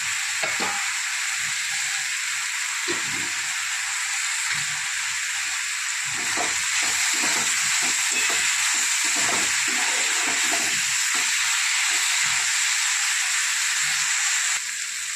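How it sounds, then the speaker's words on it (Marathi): Ginger-garlic paste fries in a pan while cooking masoor dal with onion, giving a steady close sizzling hiss with scattered soft stirring knocks and scrapes throughout, no talking. "टाकली अद्रक लसूणची पेस्ट"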